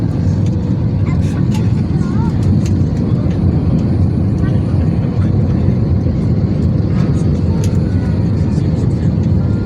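Jet airliner cabin noise during the night descent into Manama, Bahrain: a loud, steady low roar that fills the whole stretch, with faint clicks and rattles on top.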